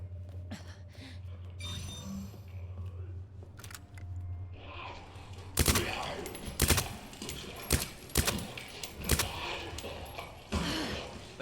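Gunfire in Resident Evil 2, a string of sharp, loud shots fired at a zombie in irregular succession after a quieter lead-in with a low hum and faint background sounds.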